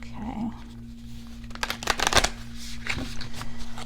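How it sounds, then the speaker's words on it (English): A deck of tarot cards is cut and reshuffled by hand, the riffling bursts of card flutter coming in a dense cluster mid-clip, close and fairly loud over a steady low hum. "deck and reshuffle so that we get a good hearty difference in our cards here"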